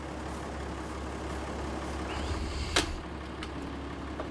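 A Farming Simulator 22 tractor idles with a steady, low, somewhat rattly exhaust rumble, fairly quiet and unbroken, with one brief sharp click near the end.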